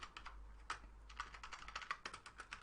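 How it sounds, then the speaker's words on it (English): Rapid, quiet clicking of keys on a computer keyboard, an irregular run of light taps with brief pauses between bursts, close to the microphone. "I'm doing a lot of typing."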